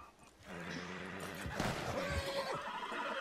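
A horse in the Western game Red Dead Redemption 2 gives a loud, shaky whinny lasting a couple of seconds, with clattering and thuds around it and faint game sounds behind.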